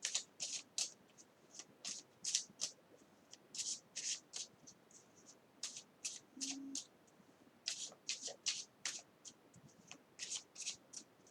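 Tarot cards are shuffled close up, quiet rhythmic bursts of riffling and slapping card stock in quick clusters with short pauses between, faint and otherwise silent.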